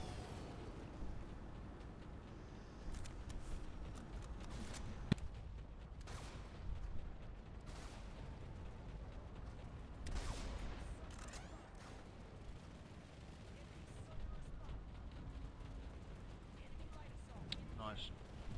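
Gunfire in the Planetside 2 beta, busy bursts of shots and impacts layered over a dense battle din, with a voice talking over much of it.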